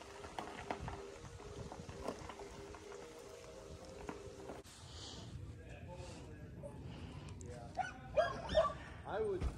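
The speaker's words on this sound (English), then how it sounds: "The dogs are barking because they're in the car about to go home, and they don't like being in the car" Dogs barking from inside a car parked in a mountaintop driveway in the Smokies, with short bursts near the end over steady background noise.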